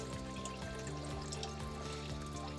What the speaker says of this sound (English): turn your mixer to hot until you see the antifreeze coming out